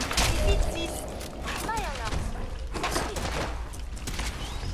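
Gunfire from the video game Fallout 4, played in survival mode with mods: bursts of shots crackle within dense, noisy game sound, and in-game voices or effects sweep through the middle.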